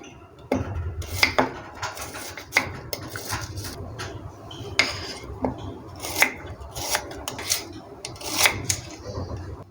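A knife chops an onion into small pieces on a board for a black seed hair mask, producing sharp, irregular taps and scraping cuts, close and moderately loud with short pauses between.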